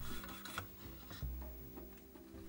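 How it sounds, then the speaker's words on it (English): Hardened Milliput putty on a model canvas tilt hood is sanded smooth, quiet close-up scratchy rubbing strokes repeating unevenly, with no talk. "Any blemishes were filled with more Milliput and then sanded smooth."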